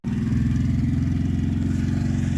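A running truck engine idles and pulls along steadily, a low, even, throbbing rumble close by that starts abruptly and holds constant throughout, used to move a first-generation Dodge for engine removal.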